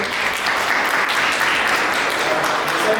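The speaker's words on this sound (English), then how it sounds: "Let's applaud the professor." An audience applauds a professor at the end of an optics lecture, a steady, full round of clapping throughout with no voices breaking through.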